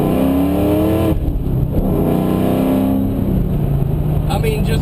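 The engine of a 2003 Ford Mustang Cobra revs, a loud deep roar whose pitch climbs and falls over several seconds, heard close while someone talks over it.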